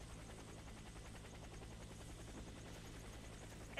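Evacuation helicopter in the Warface shooter game: a continuous low rotor drone with a rhythmic blade thump, steady and unbroken at a low level.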